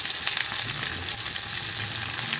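Onions and green chillies fry in a pan with chana dal and curry leaves, a steady dense sizzle that stays loud and even throughout, with no voices.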